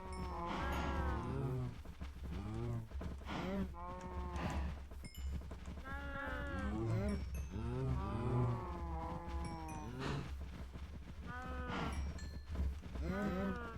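Minecraft cows in the Cobblemon game low repeatedly, a dense run of overlapping moos from several animals nearby, continuous and moderately loud over a low background hum.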